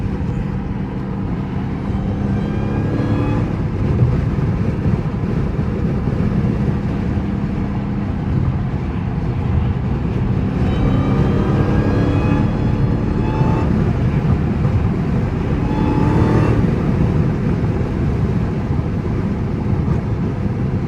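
Dodge Hellcat driving fast on a highway, heard from inside as a constant loud rumble of engine, road and wind noise with slight surges in intensity, no talk.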